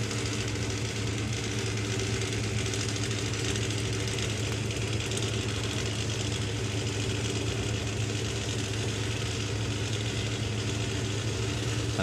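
A drag racing car engine at the FIA Main Event 2022 roars loud and close, a dense, unbroken mechanical drone with no pauses or talking.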